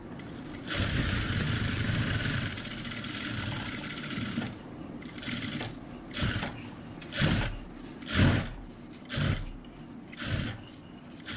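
A sewing machine stitches the turned-in margin of a kurti, first running continuously for several seconds, then working in a series of short separate bursts with pauses between, close and clear with no talking.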